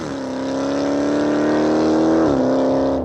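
Dodge Hellcat with a 707 hp engine roaring loudly, a sustained high-revving wail that climbs, drops sharply as a gear changes, then holds again before cutting off abruptly.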